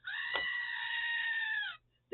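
A goat gives one long, sustained bleat lasting nearly two seconds, steady and fairly close, with a short thump near its start and quiet afterward.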